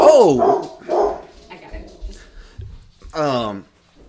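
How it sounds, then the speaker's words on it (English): A dog barks a few times, with sharp yips spaced out between stretches of a person talking nearby. "Bo, please stop barking."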